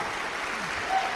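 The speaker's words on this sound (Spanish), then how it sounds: "Vamos a darles un fuerte y caloroso aplauso a todos ellos." Applause from an audience at an Amway business event welcomes first-time attendees: a dense, steady wash of many clapping hands that holds evenly throughout.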